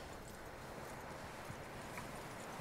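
Horse hooves walking in Red Dead Redemption 2, a faint, quiet clip-clop of steady steps under a soft outdoor ambience.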